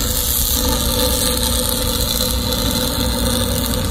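A Rusi TC 150 motorcycle fitted with a kalkal exhaust pipe idles steadily at close range, a loud, even, throbbing engine drone with no pauses across the whole stretch.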